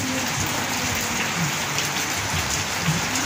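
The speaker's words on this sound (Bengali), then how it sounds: "সকাল থেকে প্রচুর বৃষ্টি হওয়ার কারণে মানুষের অনেক অসুবিধা হচ্ছে" Heavy rain pours steadily over a flooded market in Nawabganj, Mymensingh, a dense continuous hiss of drops hitting water and surfaces, close and even throughout with no voices.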